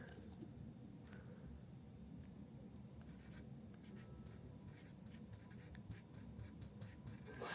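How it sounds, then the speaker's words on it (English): A sharp pencil scratches a line onto paper, with faint soft strokes at close range in a quiet room and a louder scrape right at the end. "our nice sharp pencil or pen, and we're going to mark, see, right on the line"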